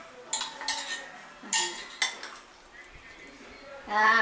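A spoon stirs thick yogurt into amaranth leaf chutney, giving several sharp clinks and scrapes against the bowl at uneven intervals, close up, with a stretch of softer mixing in between.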